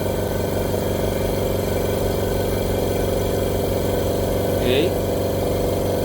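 A GDG30 silent air compressor runs with a steady, even hum and low mechanical drone throughout, close and constant, with a brief spoken word partway through.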